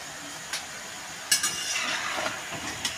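Palm fruit fritters, bengali tal bora, frying in hot oil: a quiet steady sizzle with a few sharp crackles and pops scattered through, no voices.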